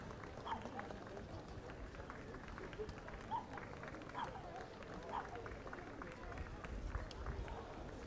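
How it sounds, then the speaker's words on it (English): An outdoor crowd at a Remembrance Sunday memorial at Cambridge War Memorial gives a sustained, even wash of clapping that sounds somewhat distant and lasts the whole stretch. "The crowd breaks out into applause here."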